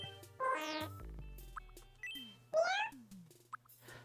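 Cartoonish character voice samples from a customizable cat-like Mii in the Nintendo game Tomodachi Life: Living the Dream, with pitch-swooping babble and meow-like chirps, short bursts with plops and dings between them, fairly loud and alone.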